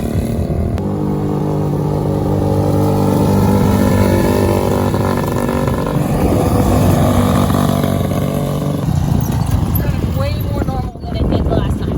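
A Polaris RZR 170 small off-road vehicle engine running steadily while being driven after carburetor adjustment, a loud continuous droning hum with a brief dip near the end, and voices talking over it.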